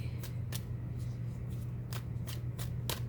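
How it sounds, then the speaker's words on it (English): Tarot cards are shuffled and flicked in a handful of crisp, separate slaps spread over three seconds, close to the microphone, above a steady low hum. "I'm gonna grab one more card."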